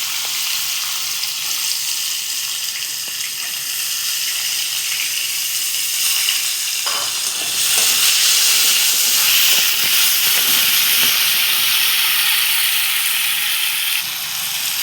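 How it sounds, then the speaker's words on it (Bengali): Small cut potato pieces frying in hot oil produce a loud, continuous hissing sizzle, close and unbroken, that swells stronger about halfway through, with no speech over it. "আমার তেলটা গরম হয়ে গেছে, এবার আমি আলু ছেড়ে দেবো।"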